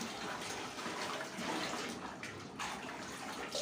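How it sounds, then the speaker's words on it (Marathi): A kitchen counter cleaning napkin rinsed in clean running water, a steady, even splashing rush that stays constant throughout without any talk. "पुन्हा एकदा स्वच्छ पाण्याने आपण हा जो नॅपकिन आहे किचन काउंटर साफ करण्याचा तो पुन्हा एकदा धुवून घेऊया"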